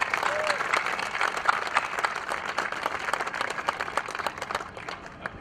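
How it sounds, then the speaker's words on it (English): Audience at a 2014 waste reduction awards ceremony on Makin Island breaks into sustained, steady applause, dense clapping holding at an even level for several seconds before easing slightly at the end. "let's give everyone a round of applause"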